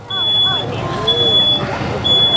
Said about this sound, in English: the smoke detector has sounded, alerting you that something is wrong.